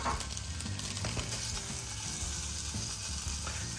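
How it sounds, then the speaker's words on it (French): Chanterelle mushrooms sauté in olive oil in a small pan over high heat, giving a steady, close sizzle and crackle that runs throughout without pause, with occasional scraping stirs. "Je verse un peu d'huile d'olive dans une petite poêle. Et je mets à feu fort. Et maintenant, je vais faire sauter les girolles."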